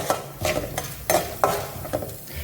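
Chana dal and urad dal roasting in oil in a kadai, heard as a soft sizzle under a rhythmic series of scraping stir strokes, each one distinct and close.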